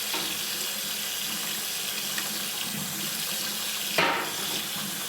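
Peanuts are rinsed under a running kitchen tap, a steady close hiss of water into a sink throughout with a brief louder splash near the end, and no talk.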